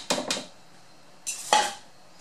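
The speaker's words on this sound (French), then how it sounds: "on commence la recette par mélanger tous les ingrédients secs" Dry muffin ingredients, flour and sugar, get mixed in a bowl, heard as four brief scraping, clinking strokes of a utensil against the bowl in two pairs separated by a quiet pause, fairly faint and without talk.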